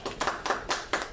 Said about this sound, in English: I want you to give me a nice applause.